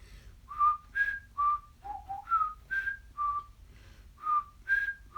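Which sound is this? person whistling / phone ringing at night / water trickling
person whistling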